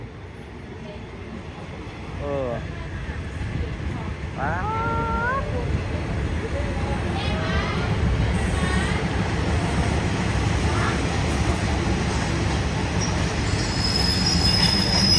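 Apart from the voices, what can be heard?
passing train, wheels squealing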